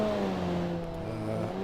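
Car engine in BeamNG driving a test track, a steady sustained drone with harmonic whine, slight pitch shifts as it holds speed, close and continuous with no talk.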